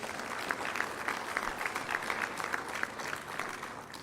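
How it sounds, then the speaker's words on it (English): A seated audience at a community meeting on the Last Chance Grade Improvement Project claps steadily at moderate volume for about four seconds, with a few brighter individual claps standing out. "Let's give them a round of applause, please."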